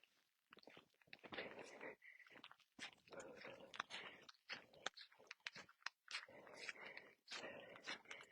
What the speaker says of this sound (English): you can probably hear that slush just crunching under my feet